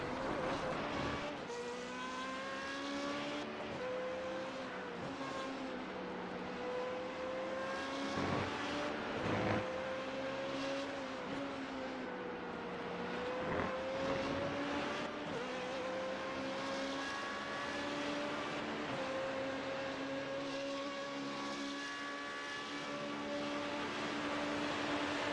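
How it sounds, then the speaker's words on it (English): An F2 race car in a racing video game, heard onboard around Monza: a high engine whine rising and dropping through gear changes and braking, steady and loud with no talking. "you guys can see just what it's like to wrestle this car around Monza"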